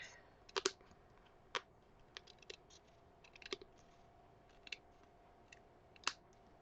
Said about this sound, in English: let me get my handy dandy paper cutting scissors and see if I can trim that real quick